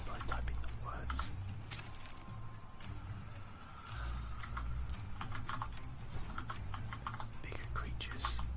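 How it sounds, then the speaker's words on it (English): Computer keyboard keys clatter in quick, irregular bursts while the typing game Epistory is played, with soft whispered talk running underneath. "So the way you kill them is by typing the words."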